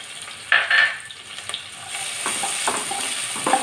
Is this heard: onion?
yes